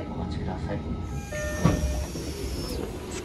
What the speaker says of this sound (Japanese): 少し先を急ぐので急行電車に乗り換えます。